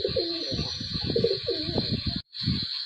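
Pigeons at a pigeon sale, including a black-necked male, coo in low throaty bursts that repeat steadily and loudly at close range over a constant high hiss, with a brief gap near the end.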